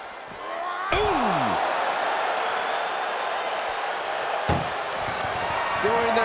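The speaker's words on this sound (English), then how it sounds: "Pushing with every fiber of their being to slam the door." A heavy ambulance door slams shut in a WWE wrestling video game, one sharp bang near the start and a second thud later, over a steady crowd roar with a voice talking.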